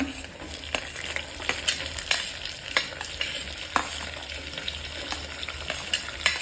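Onions and vegetables frying over a high flame for veg pulao, a low steady sizzle punctuated by frequent sharp spatula scrapes and clicks against the pan.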